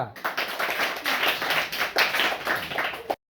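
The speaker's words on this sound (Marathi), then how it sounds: "टाळ्या." A group in a school maths session claps in a rhythmic, repeated pattern, loud and close, with voices mixed in alongside the claps.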